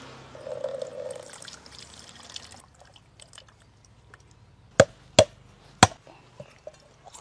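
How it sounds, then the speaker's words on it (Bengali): A coconut is struck three times in quick succession, sharp hard cracks standing out clearly against a quiet kitchen background, after some earlier dull shuffling and clatter. "নারকেলটা ফাটিয়ে দিচ্ছি।"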